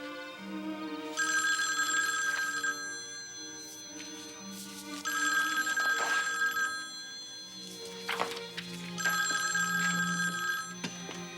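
A telephone bell rings in three long bursts of bright electronic trilling separated by short pauses, loud and close, with no talk over it.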